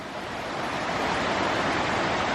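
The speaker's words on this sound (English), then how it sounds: "So I'm just about to cross a little stream." A small mountain stream in Bulgaria rushes along a hiking path, a close, steady broadband water hiss with no pauses, loud and continuous.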